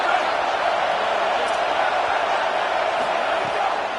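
A packed football stadium crowd roars steadily to rally the defense before a fourth-down play, a dense, continuous wall of cheering and noise with no break.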